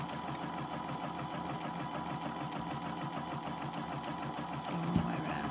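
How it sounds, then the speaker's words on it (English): Sewing machine running a zigzag stitch around the seam allowance of a hat brim toile, a steady continuous mechanical whir that holds at an even level throughout with a slight bump near the end. "drop the needle down, and try not to go over the seam line with your zigzag, just go over"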